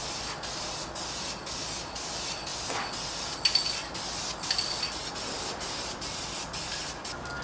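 Aerosol spray can misting paint onto a 2022 Toyota Tundra grille surround for a third and final coat, a steady close hiss running throughout with a few slightly louder bursts near the middle.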